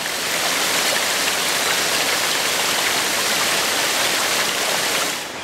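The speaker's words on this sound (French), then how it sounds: "il y a aussi ces petites cascades d'eau qui ruissellent depuis là-haut" Small waterfalls trickle down from high rocks in a sunny valley by an old stone quarry, a steady full broadband rush of falling water, close and loud and unbroken.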